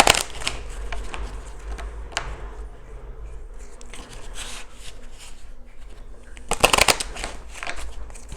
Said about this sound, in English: I guess I can't shuffle. Sorry if you can hear that noise.